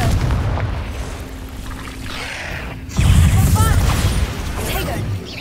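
Confringo blasting spell explosion in a Harry Potter video game, a sudden loud boom that bursts in midway and rumbles on, following a quieter stretch with a spoken voice.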